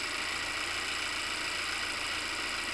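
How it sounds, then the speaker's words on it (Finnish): A 2016 Volvo XC90 T8 engine idles steadily and evenly after a fuel pressure sensor replacement, a constant low hum with no voices. "Ja moottori käynnisty."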